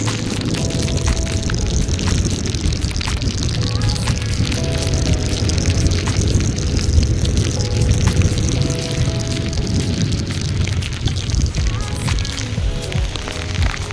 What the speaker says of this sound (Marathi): पाऊस गेले 4 ते 5 दिवस कंटिन्यू पडतो आहे आणि आज पण पडतो आहे.